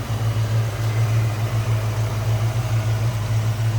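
A 1988 Ford Mustang GT convertible with a 5-liter V8 idles steadily up close, giving a low, even engine rumble with a rhythmic pulse throughout.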